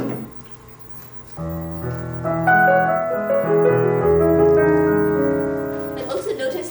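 Piano playing Debussy's Arabesque No. 1, a polyrhythmic passage with a low left hand under high right-hand figures, heard clearly and alone with notes gradually building in loudness.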